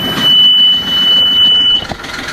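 A sailboat engine is started by shorting the starter with a screwdriver, giving a loud, steady cranking drone with a thin high whine above it for nearly two seconds, which then cuts off abruptly.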